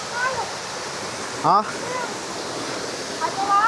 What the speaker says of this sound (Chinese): 沿路上去，一路的瀑布。